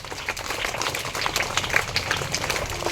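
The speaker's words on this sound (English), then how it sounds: "welcome them into ECL activity with your huge round of applause." Students applaud the Roaring Thunders group at a school assembly activity, a steady crowd clapping throughout with scattered sharper claps, moderately loud and fairly close.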